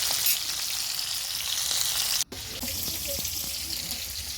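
Fish fries in very hot oil spread across a kadai, giving a steady close sizzle and hiss interrupted by a brief sharp dropout, then a few light clicks and taps under the continuing frying, with no speech.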